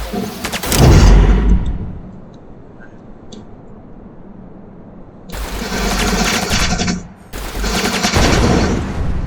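Rapid weapon fire in an Unreal Engine space starship shooter game, a loud burst at first, then a lull and two long sustained streams of automatic firing close up.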